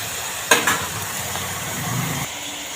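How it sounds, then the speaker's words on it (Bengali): Shrimp fry in a pan with a soft, steady sizzle, broken by a couple of sharp utensil knocks near the start, close and continuous. "তাই এটা একটু ভাজা হতে থাক"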